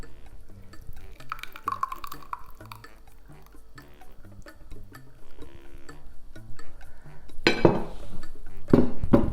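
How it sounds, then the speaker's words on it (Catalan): Chilled salmorejo, the cold Spanish tomato soup, being transferred into a bowl in a home kitchen, with soft clinks of utensil against dish, stirring and dripping sounds, and a louder clatter of crockery near the end, no talking. "anem a posar ja el salmorejo en el bol, ara ja està fred"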